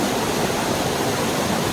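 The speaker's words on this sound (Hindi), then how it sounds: "इस पानी की आवाज को फील करो, नेचर को फील करो, कितनी अच्छी आवाज है।" Mountain stream water rushing over rocks in the hills of Himachal Pradesh, a loud, close, steady broadband roar with no break and no voices.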